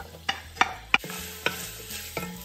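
Vegetables sizzle in about two spoonfuls of extra virgin olive oil in a hot pan, a steady close fry broken by several sharp scraping stirs of a utensil, with no voices.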